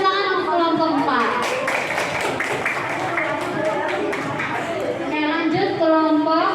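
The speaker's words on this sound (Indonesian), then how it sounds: "Mari tepuk tangan untuk kelompok 4." A classroom group applauds a student team, the steady clapping of many hands mixed with chatter and voices throughout.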